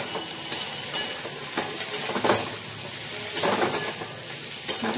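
Vegetables sizzle steadily in hot oil with onions fried reddish-brown, with scraping stirring strokes at irregular intervals rising over the continuous crackle; no voices.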